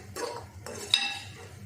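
Utensil scraping and clinking in a pan as cooked sweet vermicelli (sukhi meethi sawaiyan) is stirred and loosened into separate strands, with a few short scrapes and a sharp clink, close and moderately loud, no talking.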